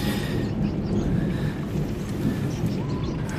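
Storm sound effect in a German horror radio drama, a steady roaring wind and rain wash with low rumbling, continuous and fairly loud, with no voices.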